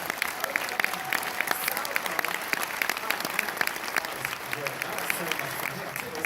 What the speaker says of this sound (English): let's have a temporary round of applause for an amazing...